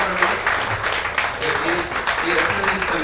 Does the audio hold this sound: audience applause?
yes